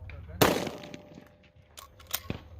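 A single sharp rifle shot cracks out nearby at an outdoor shooting range, followed by a couple of fainter distant reports from other shooters; brief voices murmur in the background.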